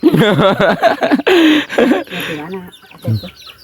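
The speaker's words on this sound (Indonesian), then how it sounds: "Tuh ada ayam." Loud, close chicken clucking and squawking in quick bursts, with a person's voice briefly mixed in toward the end.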